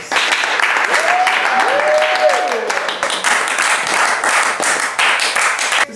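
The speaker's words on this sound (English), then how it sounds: "Let's give a round of applause." Steady applause rises from a seated group honoring the final three players at a Survivor finale, mid-level and continuous, with a brief tonal swoop over the clapping and a host's voice nearby.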